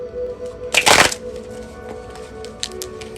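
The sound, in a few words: shuffling a deck of cards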